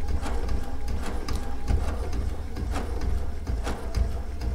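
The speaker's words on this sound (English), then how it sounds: "I used the serpentine stitch on my Baby Lock sewing machine with the digital dual feed foot" A Baby Lock sewing machine runs steadily while quilting with a serpentine stitch and a digital dual feed foot, a close, continuous rhythmic needle chatter and motor hum with no talking.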